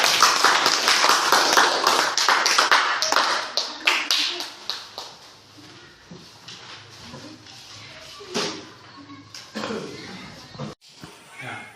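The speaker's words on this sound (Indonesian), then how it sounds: "Siapa yang kita boleh tepuk tangan?" A classroom of children clapping hands together after a group presentation, a dense burst of claps at first that thins into scattered individual claps, with voices talking in the room.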